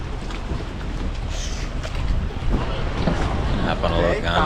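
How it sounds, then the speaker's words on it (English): A gondola ride on the Grand Canal in Venice, with wind buffeting the microphone and a steady wash of water and boat noise, fairly loud throughout, while a voice speaks over it. "Hop on a little gondola ride here in Venice."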